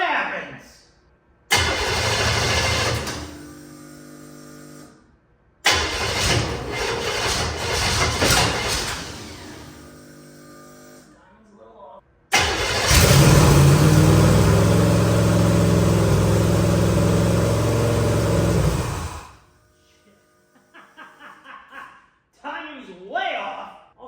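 A twin-turbo 1963 Corvette C2 hot rod engine cranks and fires for the first time, with three separate start attempts; the last catches and runs loud and rough for several seconds before cutting out, with voices talking in the gaps.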